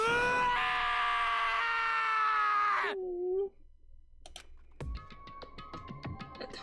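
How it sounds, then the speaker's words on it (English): Taka, a character in the video game DanganRonpa, lets out a long, sustained anguished scream that wavers and trails off into a choked groan, followed by a sparse clatter of keyboard-like clicks and blips. "Taka's sad scream"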